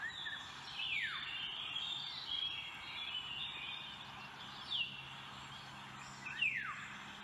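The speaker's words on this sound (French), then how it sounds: "Le loriot d'Europe est une espèce d'oiseau de la famille des Oriolidae" A Eurasian golden oriole calls outdoors, giving several clear whistled notes and a few sharp downward-sweeping phrases spaced over several seconds against a quiet background.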